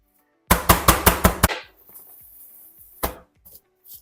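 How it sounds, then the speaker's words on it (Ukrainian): Six rapid, loud thuds of a meat mallet's flat face pounding beef liver on a board in quick rhythm, followed by a pause and one more heavy blow. "Печіночку я буду відбивати ось цією частиною, не зубчиками, а цією"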